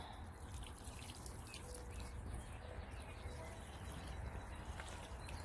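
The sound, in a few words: watering bean seeds planted in a container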